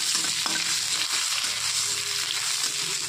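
Dry red chili, bay leaf, panch phoron spice mix and chopped ginger fry in hot oil, giving a steady close sizzle with a few light stirring knocks.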